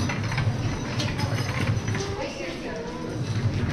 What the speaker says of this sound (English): The Budweiser Clydesdale horses.